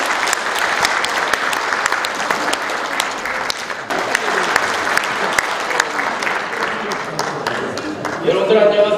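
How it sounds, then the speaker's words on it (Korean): An audience at a mayor's book launch event gives warm, sustained applause, dense clapping holding steady before a speaker begins talking near the end. "뜨거운 박수 부탁드립니다"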